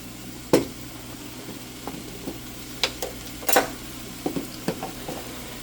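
Sweet red relish stirred in a pan, a utensil scraping and tapping in scattered, irregular clacks over a low simmering background, with no voices.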